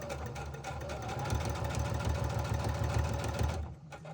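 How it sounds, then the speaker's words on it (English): A sewing machine runs in a steady rapid rhythm of mechanical stitching for several seconds, then slows and stops. "I'm going to put that in my sewing machine here."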